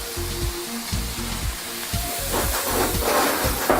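Pieces of beef drop into boiling oil for crispy sweet-and-sour beef, a loud continuous sizzle with dull rhythmic thumps underneath, close and steady throughout.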